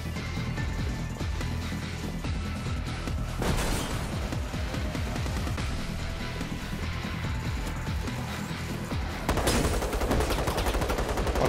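A minigun in the survival horror game Resident Evil Resistance spins up and fires a dense, continuous stream of rounds, loud and close throughout, with a louder burst near the end.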